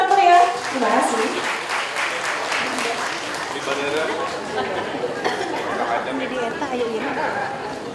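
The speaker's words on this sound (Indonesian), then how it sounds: "Kita berikan tepuk tangan yang sangat meriah." An indoor audience at a community gathering with cleanliness volunteers breaks into sustained applause to welcome the Mayor of Bandung, many hands clapping together with chatter mixed in, loudest at the start and then holding steady.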